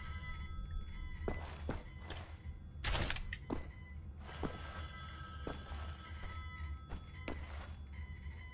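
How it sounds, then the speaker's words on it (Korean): A telephone rings in Wolfenstein: The New Order inside the Eisenwald prison. Repeated electronic ring bursts sound over a low hum, broken by thuds and footsteps, moderately quiet throughout. "전화 어디서 오는 거야?"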